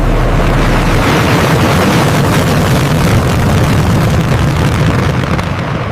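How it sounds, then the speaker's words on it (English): A massive afterburner roar, loud and dense, filling the whole range with rumbling, crackling thrust that holds steady throughout. "The roar of the afterburner engine."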